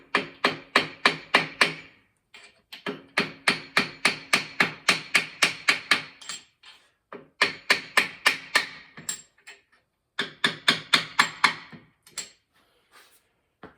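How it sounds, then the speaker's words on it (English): Rapid bursts of sharp metallic brass hammer strikes on an LS6 engine, several quick blows per burst, repeated in groups with short pauses between, close and loud. "Again, it's a brass hammer,"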